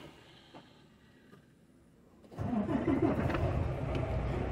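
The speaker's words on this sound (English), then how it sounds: "And we start the truck back up." A loaded tanker truck's engine cranks and fires up midway through, jumping from quiet idle-room hiss to a loud, steady rumbling idle that continues to the end.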